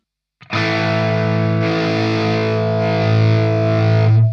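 Electric guitar through a Mesa/Boogie Mark V set for a Marshall Plexi-style tone, one loud sustained distorted chord ringing out for about four seconds after a quick pick attack.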